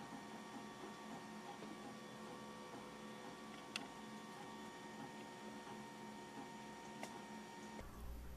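A 3D printer prints a heat tower in SainSmart nylon carbon fiber filament, giving off a steady mechanical hum with faint stepper whine and a few sharp ticks, running alone at low level.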